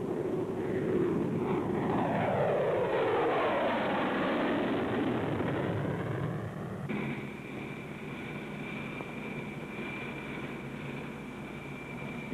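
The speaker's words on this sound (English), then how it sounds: "the SR-71 is a member of a new family of aircraft known as the Lockheed Blackbirds" Lockheed SR-71 Blackbird jet aircraft roaring past with a loud, sweeping engine rush whose pitch glides downward, then settling into a steady steady roar with a thin whine above it, no voices.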